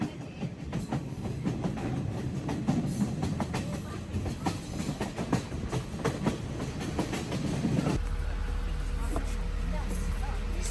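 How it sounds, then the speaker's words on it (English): A train rumbles and clatters along the rails close by, with muffled voices under the noise; the rolling sound shifts to a steadier drone near the end. "The train is delayed, it's quite slow."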